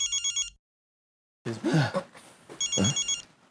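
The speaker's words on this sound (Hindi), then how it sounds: "मेरा फोन बज रहा है" A mobile phone rings with a bright electronic trill in short pulsing bursts, stops, then resumes after a man clears his throat and mutters nearby.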